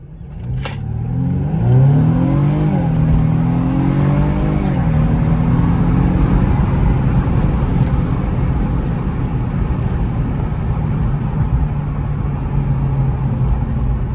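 A supercar accelerates hard from close inside, its engine note climbing through rising revs before settling into a loud, sustained roar of road and engine noise with no talking.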